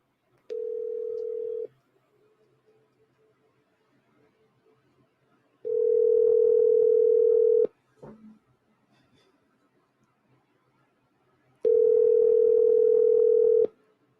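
A telephone line tone sounds while a call is placed, three steady single-pitch tones of one to two seconds each, separated by long quiet gaps, with a brief click between them.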